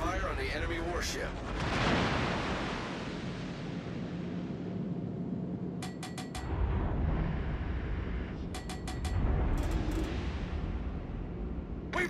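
Naval guns firing at an enemy warship in a video game: heavy booming blasts and rumbling explosions recur over a constant roar, with a voice speaking between shots.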